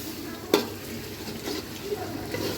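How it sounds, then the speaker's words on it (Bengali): Broiler chicken, a little over 2 kg, sautéed and stirred in a pot for biryani, giving a steady sizzle with one sharp scrape of a spoon early on and softer stirring clatters after. "এবার আস্তে আস্তে কষিয়ে নেব"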